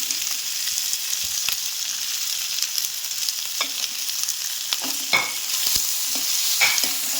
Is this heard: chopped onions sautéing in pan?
yes